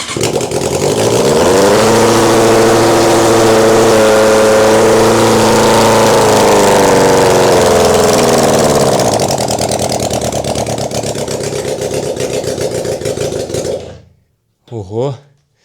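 A small engine fitted with a new filter runs loud and close, revving and settling into a steady idle for about fourteen seconds before cutting out. A brief burst of talk follows the stop.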